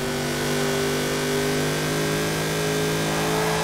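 A McLaren Senna in the racing game Forza Horizon 4 holds a steady, loud mid-pitched engine drone that barely changes, with no clear skid heard.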